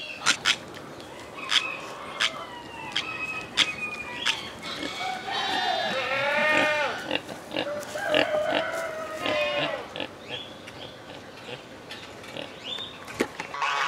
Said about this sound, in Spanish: encontramos a las alegres e inquietas cabras, esperando su turno para ser ordeñadas, encontramos también una gran variedad de animales como aves, ovejas y cerdos